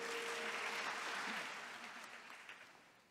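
A choral seminar audience gives brief applause that is soft and fades away over a few seconds.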